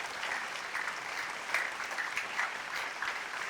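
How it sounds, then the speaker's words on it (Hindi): Church congregation applauding at a sermon, dense steady clapping from many hands throughout, moderately loud and somewhat distant, with no talk over it. "ताली बजाएंगे आप जोर से।"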